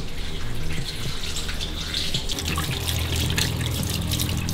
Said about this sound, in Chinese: 现在我们洗一下青菜，先洗韭菜吧。